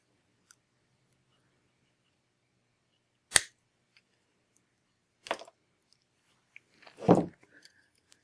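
Silver wire being trimmed with cutters while making earrings, a few sharp isolated snips separated by quiet pauses, close up, with a louder final clip and handling noise.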